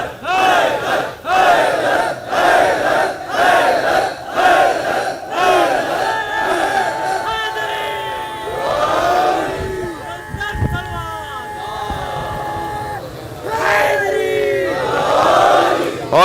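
A large crowd at a 9th Muharram gathering in Nishtar Park, Karachi, loudly chants salawat in unison, repeated rhythmic swells of many voices filling the open space.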